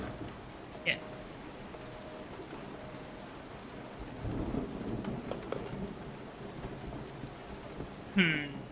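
Steady rain pours through a Resident Evil 7 game scene, with a low rolling thunder swell building in the middle and a couple of sharp cracks near the start and end.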